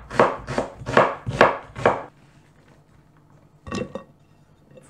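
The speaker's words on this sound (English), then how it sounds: "Onions, you just roughly chop it." Five firm knife strokes through onions on a board in a quick even rhythm, then a pause and two more chops, close and clear with no talk.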